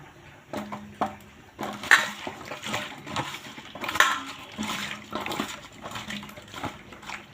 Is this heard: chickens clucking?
no